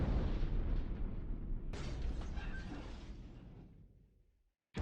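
Naval bombardment in the World War II strategy game War in the Pacific, 1942 Johnston Atoll action: a continuous loud rumble of heavy explosions that slowly fades out, followed by a sudden new burst at the very end.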